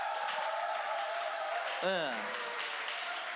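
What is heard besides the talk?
audience applauding two performers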